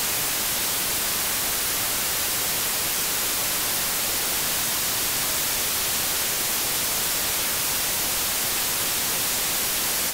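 Dense, broadband hiss-like audio spread wide by the Polyverse Wider stereo width control in Ableton Live, a constant loud wash of noise running unbroken for the whole stretch without any voices.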